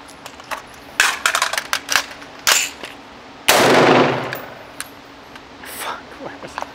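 Pistol shots at shooting practice: a rapid cluster of sharp, close cracks, then a louder broadband blast with a short decaying tail, followed by a few fainter clicks.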